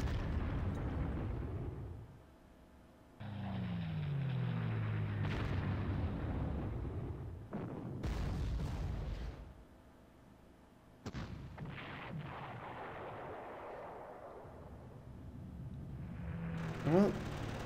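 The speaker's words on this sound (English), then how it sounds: "I want all my artillery units to fire." Artillery units firing in the strategy game Panzer Corps, several heavy booming blasts separated by quieter gaps, with rumbling tails over a low background.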